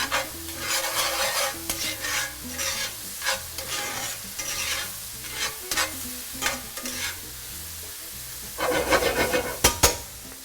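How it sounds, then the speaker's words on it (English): Mushrooms cook for a keto mushroom sauce in a pan while a utensil stirs them, rhythmic scraping strokes over a steady close sizzle that swells into a busier burst of stirring near the end. "So I'm just gonna give it a little mix so you can see that there should be some color happening on the mushrooms."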